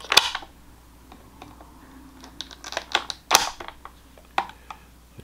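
A Waxwork Records Spinatures Halloween 3 skeleton figure being cut loose from its packaging: several sharp, close snips and crinkly scrapes in uneven bursts, with no voices.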